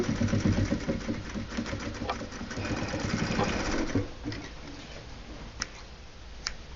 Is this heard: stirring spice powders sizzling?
no